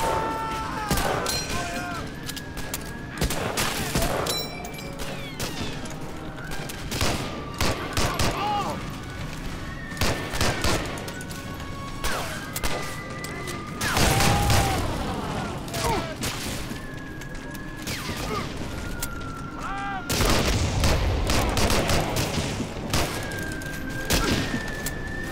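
Rifle gunfire in Medal of Honor Allied Assault during a wartime battle: repeated sharp shots cracking at an irregular rhythm, some close and loud and others more distant, over a busy backdrop with brief voice lines.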